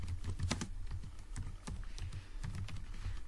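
Steady typing on a computer keyboard while entering code, with quick clustered clacks and short pauses, close and fairly soft, with no talking.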